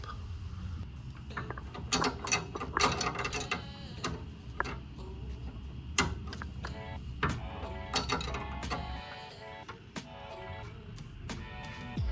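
A ratchet works loose a bolt inside the fender well of a Tesla Model Y during a sway bar install, giving bursts of quick metallic clicks and clanks among scattered tool knocks, close and moderately loud.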